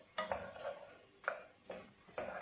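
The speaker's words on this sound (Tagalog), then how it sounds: "Tapos, haluin natin." A spoon clinks and scrapes against a pot as a dish with black lemon and pepper is stirred, a few soft, separate knocks close by with no talking.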